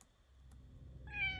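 A cat meows once, short and fairly clear, near the end of a quiet stretch in the horror video game Faust Alptraum, with a faint low rumble beneath.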